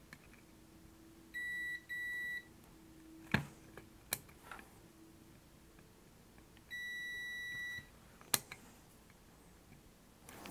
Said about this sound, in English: So we're going to go ahead and put this in continuity mode, our meter.